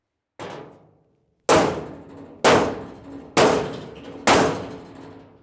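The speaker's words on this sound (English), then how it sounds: "Let me get a big hammer. I'm just gonna swing at this." A big hammer strikes a bent steel service bed five times in an even rhythm, each blow a loud, close metallic bang that rings out and slowly decays before the next swing.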